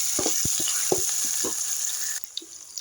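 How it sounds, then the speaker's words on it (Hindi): Sliced onions go into hot oil already holding roasted bay leaf, cumin, cinnamon, cloves and black pepper for chole. A steady close sizzle runs throughout, broken by several soft stirring knocks that fade near the end. "अब इसके साथ ही डाल दूंगी मैं ये प्याज।"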